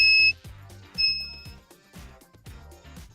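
A handheld metal detector gives short electronic beeps while swept over a stainless steel screw, two bright tones near the start, then fainter repeated chirps over low rumbling handling noise, close by.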